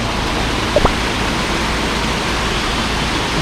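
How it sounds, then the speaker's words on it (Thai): A small stream runs through the middle of Mae Kampong village near Chiang Mai, fed by a nearby waterfall, giving a steady, close rushing wash of water that holds evenly throughout, with one faint brief knock early on. "ลำธารไหลผ่านกลางหมู่บ้านนะครับ เป็นลำธารเล็ก ๆ"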